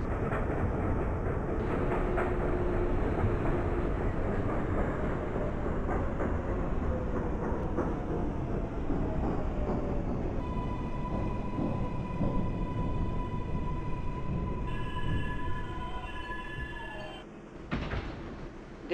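A Manhattan-bound F subway train in the openbve train simulator rumbles along the track with a dense rattling roar, then slows with rising whining tones and squealing brakes before a brief clunk near the end.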